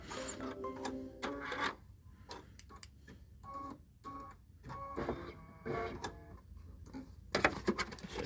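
Short bursts of sewing machine stitching along a trim and placement line on an autumn quilted table runner. The stop-start stitching comes in close, uneven spurts with quiet gaps between them.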